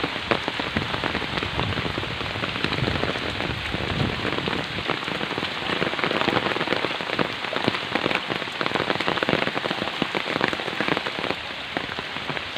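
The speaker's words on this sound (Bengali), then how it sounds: "প্রচুর বৃষ্টি হচ্ছে" Heavy rain pours down steadily on Chinese geese and domestic ducks, a dense, loud hiss of drops drumming on surfaces without pause.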